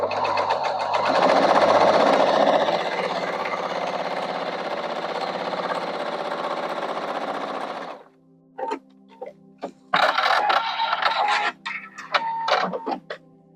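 A sewing machine runs continuously while chain piecing a quilt, close and loud, then stops and a few short bursts and clicks follow.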